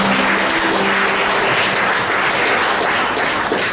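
Steady, loud applause from a church audience fills the whole stretch, dense clapping without pause and no voices standing out.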